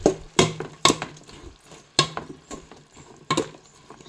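Tinola chicken soup stirred in a pot, spoon clinking against the metal in a few sharp knocks spaced about a second apart, with soft sloshing and scraping between them, close and fairly quiet.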